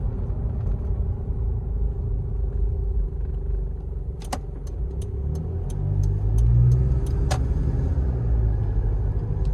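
A 1996 Toyota Land Cruiser Prado KZJ95 cruising on the freeway, its steady low engine and road rumble continuous and close, swelling slightly as it accelerates, with a few brief clicks partway through.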